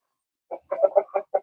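A hen clucks in a short run of quick, close, throaty calls, about six pulses over a second after a brief silence, in a coop.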